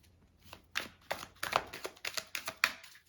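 Quick flurries of tarot cards riffling and slapping together as they are shuffled, about a dozen short bursts in an uneven rhythm, close by and fairly quiet.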